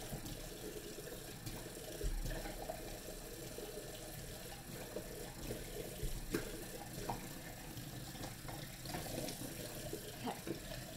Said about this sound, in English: Putting some cold water into it.